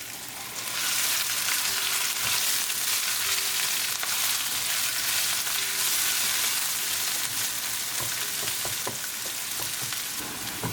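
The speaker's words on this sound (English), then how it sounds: "Now I'm going to bring onion and we're going to mix it well." Onion frying in a pan for a kidney bean rice pilaf, a loud continuous sizzle that builds after a quiet start, with occasional stirring clicks toward the end and no speech.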